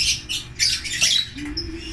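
A bird squawks and chirps in short, harsh bursts at close range, with faint rustling in the background.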